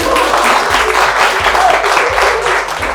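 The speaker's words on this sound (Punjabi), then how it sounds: "ਜ਼ੋਰਦਾਰ ਤਾੜੀਆਂ" Loud, dense applause from an audience at an institute event in Barnala, Punjab, a continuous wash of clapping that holds steady throughout.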